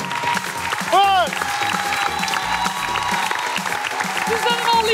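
A television game-show studio audience applauds and cheers for celebrity guests Demet Akalın and Okan Bur, a dense, steady clapping wash mixed with crowd noise and a few vocal whoops.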